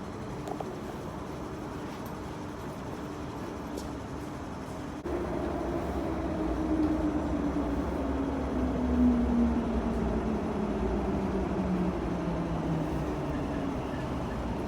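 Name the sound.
metro train arriving at station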